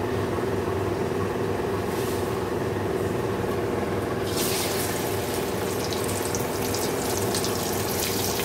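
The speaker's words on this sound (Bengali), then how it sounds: "তো চলো মাছগুলো ভেজে নিই।" Fish frying in smoking-hot oil on a low gas flame, a dense continuous sizzle that grows brighter and crackles more partway through, close and loud, with no talking.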